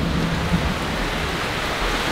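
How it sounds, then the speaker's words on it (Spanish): Heavy rain falling during a thunderstorm, a dense and loud steady roar of downpour with a low rumble of thunder underneath, all close by and with no talk. "Está cayendo la tormenta del siglo."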